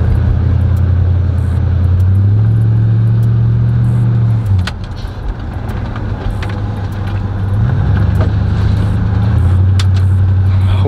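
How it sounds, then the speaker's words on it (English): An Oldsmobile Cutlass engine hums steadily up close, its pitch dipping and rising as the car slows and speeds up again, with road noise throughout. "let's get this car dropped off"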